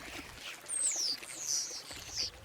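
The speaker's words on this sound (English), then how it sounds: "I can hear the water gurgling down below me" River water gurgling and trickling below a village, a steady soft flow with bright high bird calls chirping over it.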